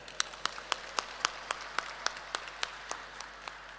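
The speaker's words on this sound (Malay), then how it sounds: "saya mahu semua orang memberi satu tepukan gemuruh pada Yang Berhormat Speaker" Applause for the Speaker at a sports festival ceremony, heard as a thin, evenly paced run of individual claps ringing out distinctly, about three or four per second, rather than a full crowd roar.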